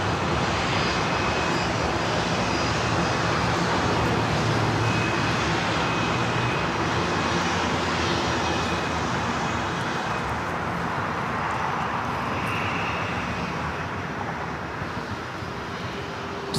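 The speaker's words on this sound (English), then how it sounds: "This is United Airlines Flight 32 taking off to Tokyo Narita on the" A United Airlines Boeing 787-9 Dreamliner takes off from Los Angeles bound for Tokyo Narita, its engines a loud, steady broadband roar that holds throughout and eases slightly toward the end.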